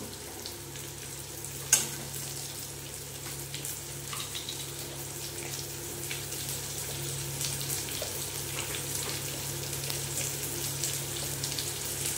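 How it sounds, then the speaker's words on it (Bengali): Pointed gourd (patol) frying with spices and salt in a pan, a steady close sizzle with a few soft stirring scrapes and one sharp clink near the start, no voices. "এবার পটলটা এমনভাবে কষে নেব যাতে একটু এই মশলা দিয়েই ভাজা ভাজা হয়ে যায়।"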